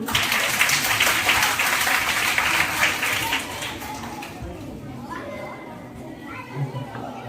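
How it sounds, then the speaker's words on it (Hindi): Schoolchildren at a university outreach session clap for themselves, a dense burst of young hands clapping that fades after about four seconds into children's chatter and movement. "तो आप सब लोग सुपर हीरो हो, तो अपने लिए ताली बजाओ।"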